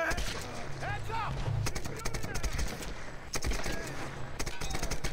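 Rapid bursts of gunfire from a gun in the Tomb Raider video game, with repeated sharp shots in clusters and a voice talking over the shooting.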